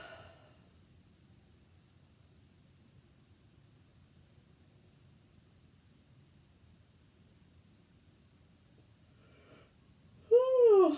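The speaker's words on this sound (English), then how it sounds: "A yawn is perfect for right now." A single drawn-out vocal yawn rises and falls near the end of a breathing exercise for anxiety relief, close and fairly loud, after a long stretch of near silence.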